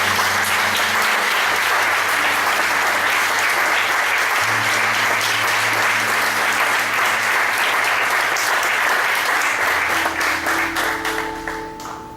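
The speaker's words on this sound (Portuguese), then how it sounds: "Dê uma salva de palmas bem forte." A congregation at a church service breaks into a long, loud round of applause that holds steady for about ten seconds before tapering off, with a low sustained tone, like organ or keyboard, underneath.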